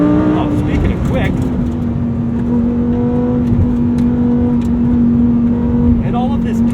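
A Lamborghini Huracan STO engine drones loudly as it accelerates, with a strong steady tone and rapid gear-shift changes, heard from inside the cabin.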